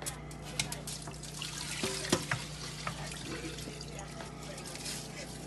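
Water draining off rinsed rice into a sink, a soft trickling and splashing flow with a few small drips and clinks, under faint background voices.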